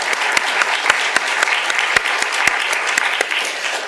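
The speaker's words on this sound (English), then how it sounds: "I would like you all to give yourselves a round of applause." An audience at a literary awards event for sonnets and poetry applauds itself, a loud, dense and sustained round of clapping with individual sharp claps standing out near the listener throughout.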